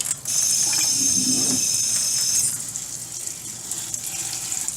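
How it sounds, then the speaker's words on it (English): Tap water runs steadily over blackberries in a colander for a couple of seconds, a loud broadband rush that then drops to a softer trickle, with no talk. "First you place some blackberries in the colander. Not too many now. Then you proceed to rinse."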